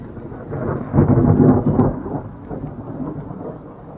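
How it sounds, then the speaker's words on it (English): Close, loud thunder rolls through a thunderstorm on a solo backpacking trip, swelling into a deep rumble before fading, with steady rain pattering underneath. "Thunder showers picked back up."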